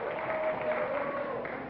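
Studio audience applauding on a classic TV price game show, a steady wash of clapping that holds evenly throughout, with a faint tonal hum running underneath.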